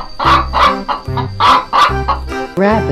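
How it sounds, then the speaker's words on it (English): A toy animal game plays chicken clucking: a rhythmic series of loud, close clucks in quick bursts, ending with a slightly longer call. "Chicken."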